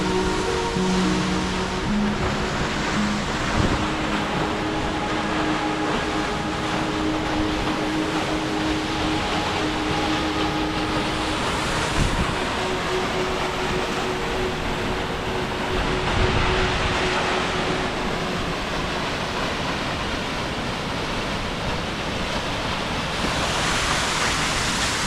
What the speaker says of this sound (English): What a beautiful waterfall